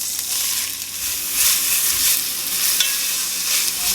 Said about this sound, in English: Then we're gonna add the onions.